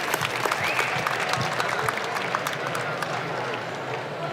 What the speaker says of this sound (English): Please give a round of applause to Ben